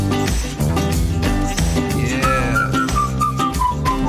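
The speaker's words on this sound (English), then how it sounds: "I've been whistling a lot lately." A melodic whistled tune, rising and sliding in pitch, rides over a full band playing loudly throughout.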